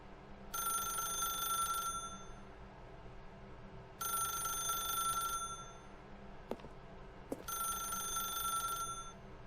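A telephone rings in the video game The Stanley Parable. There are three long electronic bell bursts at an even pace with pauses between them, clear and alone, and a couple of faint clicks in the gaps.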